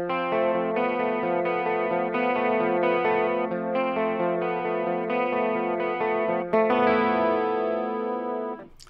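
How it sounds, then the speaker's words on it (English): An electric guitar played through a chorus effect pedal gives a shimmering, widened tone. It plays a continuous line of sustained, ringing notes, with a brief pluck accent near the end and no talking. "And now with the chorus."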